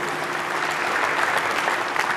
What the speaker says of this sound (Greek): Τους αξίζει ένα χειροκρότημα.